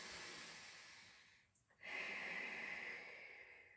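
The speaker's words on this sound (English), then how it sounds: "Breathing in through the nose." A single quiet inhale through the nose during a Pilates exercise: a soft, airy hiss lasting about a second after a brief pause. It is faint and heard alone.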